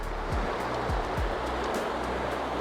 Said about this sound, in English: It's the little stream that runs into the lake here.